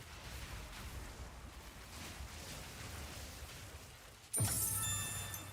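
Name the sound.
Chance Orb item drop sound in a video game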